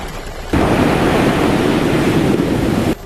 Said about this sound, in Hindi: समुद्र में लहरों का तूफान